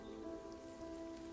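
Soft, steady rain falls continuously without a break, a muted hiss with faint droplet patter, fairly quiet and with no voices over it.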